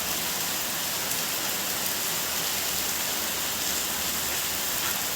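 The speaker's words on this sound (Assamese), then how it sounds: "ইমান ডাঙৰ বৰষুণ" A heavy downpour falls continuously with a thick, uniform roar of rain that stays loud and unbroken from start to finish.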